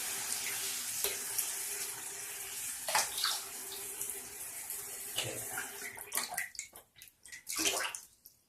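Tap water runs steadily into a sink during face wetting before a shave, with brief splashes and hand-scooping sounds, then trickles and splashes break up in the last couple of seconds.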